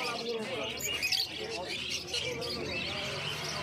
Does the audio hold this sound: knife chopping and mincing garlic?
no